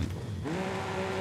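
A Lamborghini Diablo GTR in a racing game, its engine note climbing into a steady high whine with tire squeal, loud and brief.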